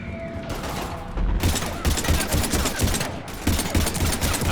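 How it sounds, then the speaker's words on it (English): Sustained automatic gunfire in the video game Mass Effect 3, a dense loud barrage of rapid shots that pauses briefly twice before resuming, close and continuous. "We're taking heavy fire."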